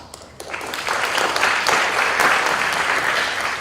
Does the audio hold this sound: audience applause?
yes